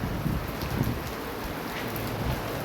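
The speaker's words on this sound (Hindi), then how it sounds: "बाहर देखो गाइस बहुत तेज़ बारिश हो रही है" Heavy rain pours outside in Haridwar, a continuous soft hiss of drops on surfaces that stays even throughout, with no talking.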